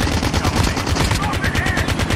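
PUBG video-game sniper rifle fire: loud, dense shooting with repeated sharp cracks that pulse steadily through a continuous, busy battle din.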